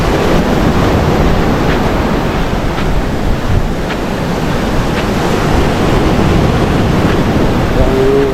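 Rough sea surges and crashes in a loud, continuous roar, with heavy wind buffeting the microphone at a fishing spot on the water.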